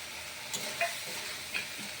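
Ground turmeric, cumin, garam masala and black pepper stirred and sautéed in a pan for a cauliflower and paneer vegetable dish, a soft steady sizzle with a few scraping stirs of the spoon.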